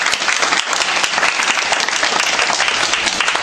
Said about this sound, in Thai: ช่วยปรบมือให้กับยูอ่ะด้วยครับ